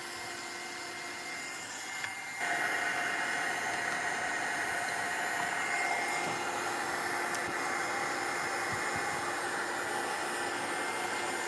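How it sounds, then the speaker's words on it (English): A heat gun blows steadily on mixed-media artwork, a continuous close airy roar that switches on about two seconds in and holds level to the end with no talk. "Even blowing with the heat gun, you can direct the colors in selected places."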